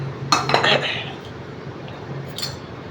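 A spoon stirs oil into a mixture in a bowl, producing a quick cluster of metallic clinks and scrapes near the start, then quieter rustling and one more light clink.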